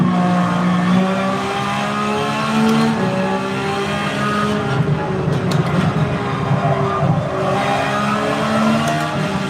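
A GT3 race car on a lap of Trial Mountain in Gran Turismo, engine droning steadily with shifting revs through gear changes and brief tire squeal, loud and continuous.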